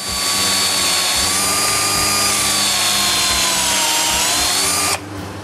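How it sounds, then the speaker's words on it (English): A power drill drives a smaller, longer bit deeper into wood for the frame of a workshop front door. It makes a loud, continuous, high whine for about five seconds, then cuts off abruptly, leaving quieter room noise. "so I drill it further with a smaller, longer bit."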